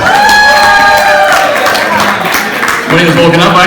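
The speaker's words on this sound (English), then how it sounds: "Let's give him another round of applause" Open mic comedy night audience at Gymea gives a performer another round of applause, a burst of clapping and cheering heard close, with a voice talking over it.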